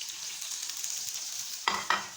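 Steady hiss of tomatoes sizzling and frying in hot oil in a kadai, with a couple of brief clatters of stirring near the end.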